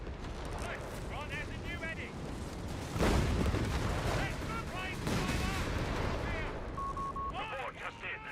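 Mortar artillery fire in the video game Company of Heroes 3, a deep booming shot followed by rumbling battlefield blasts, with the game's whistling and clanking effects layered over a constant low roar.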